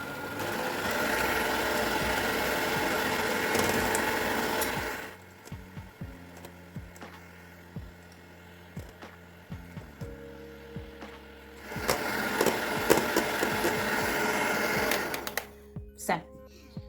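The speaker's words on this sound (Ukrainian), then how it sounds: "І вже тепер можемо збільшувати швидкість і збивати до стійких піків." An electric mixer whipping egg whites to stiff peaks whirs loudly and steadily, stops for several seconds of clinks and light tapping, then starts again at a strong buzzing speed.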